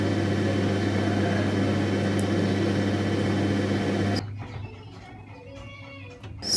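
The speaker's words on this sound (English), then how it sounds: "So now we can grind them to a smooth paste." Mixer grinder blending tomatoes, green chilies and curry leaves into a smooth paste, a loud steady motor whir that cuts off abruptly partway through, followed by quieter handling noises.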